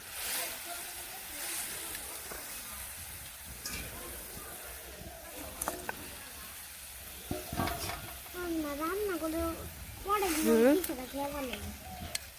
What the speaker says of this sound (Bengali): তো এর মধ্যে মাছ দিয়ে দিই